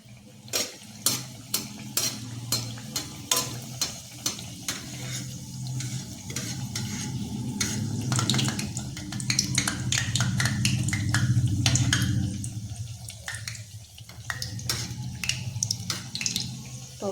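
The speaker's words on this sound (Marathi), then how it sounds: "तेल आपण तर आपलं नॉर्मल गरम झालेलं आहे तर आपण करंजी सोडून देऊया" Crispy dry-fruit karanji pastries slipped into moderately hot oil, giving a steady bubbling sizzle with scattered sharp clinks of a utensil, swelling louder midway and then easing off.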